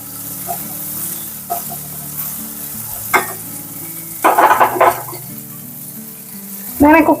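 Prawns frying in a pan, with a steady low sizzle and several louder bursts of stirring and scraping, close by and alone.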